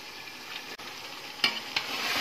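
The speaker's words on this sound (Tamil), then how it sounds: "நல்லா மட்டன் வதங்கின பிறகு இப்போ நான் தக்காளியை" Mutton sautéing in a pan for Ambur-style dum biryani, with tomatoes being added: a steady, close sizzle with a couple of brief stirring clatters and bursts, and no one speaking.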